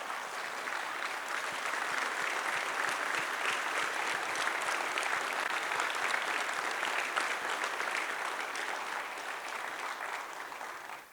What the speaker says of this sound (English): give this RIA staff a round of applause for all the work that they've been doing behind the scenes